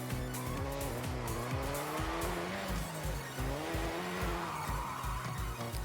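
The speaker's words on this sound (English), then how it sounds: "I love the sound of rotary engines in general," A rotary-engined car races in Forza Horizon 6, its high buzzing engine note climbing and dropping through gear shifts with tire squeal and skidding, loud and continuous.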